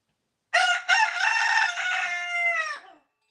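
A chicken gives one drawn-out, loud call lasting over two seconds, close to the listener and alone, with no talk over it.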